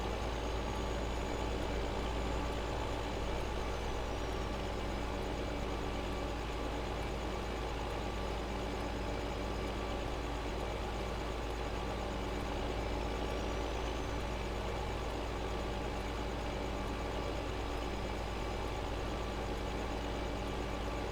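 Vehicle engine from the Farming Simulator 15 video game, a steady low continuous drone with faint tonal whines rising and falling, running alone without talk.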